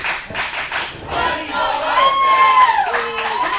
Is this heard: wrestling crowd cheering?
yes